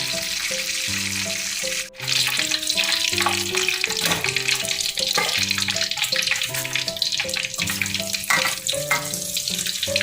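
Chicken deep-fries a second time in hot oil on high heat, a loud, constant bubbling sizzle heard close up, with background music playing throughout.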